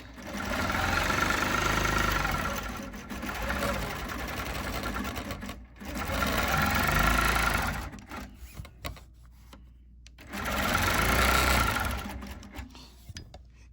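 Domestic sewing machine stitching through a quilt, running in three sustained bursts of rapid mechanical whirring with short pauses between them, close and fairly loud.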